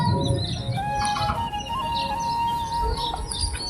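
Chickens in a village yard cluck and chirp in scattered short calls over a steady outdoor background, with no talking.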